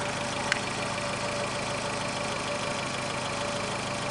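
A car engine idles steadily with its alternator under load charging lithium titanate batteries at about 50 amps, a constant mid-pitched hum and whine heard close and alone.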